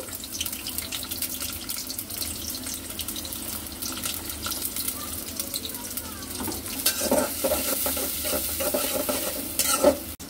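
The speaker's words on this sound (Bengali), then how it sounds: "তেল দিয়ে দিলাম, পেঁয়াজ কুচি," Chopped onion hitting hot oil in a pan for a prawn and vegetable curry, a continuous hiss that swells louder and brighter partway through, with faint clatter and no talking.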